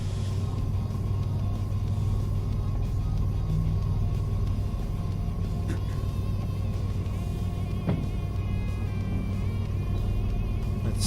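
Steady low locomotive rumble from a train in Derail Valley, sustained and fairly loud throughout as the brake comes off, with a faint hum and no talking.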